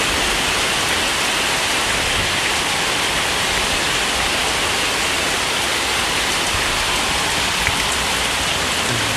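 Heavy rain pours down steadily on a golden apple snail pond, a loud, dense hiss of drops drumming on surfaces with no break throughout.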